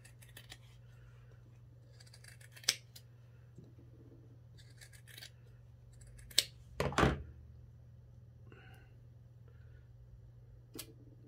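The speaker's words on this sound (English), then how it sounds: "when you stitch around the edge there, you've then got to trim that seam quite close, a couple of mils away" Scissors trimming close along the stitched fabric seam of a baker boy newsboy cap, scattered faint snips and rustles over a steady low hum, with a sharper cluster of cuts near the middle.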